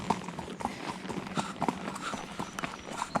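A horse's hooves clip-clop at a steady walking rhythm on an endurance training ride, close and clear, with light outdoor background and no talking.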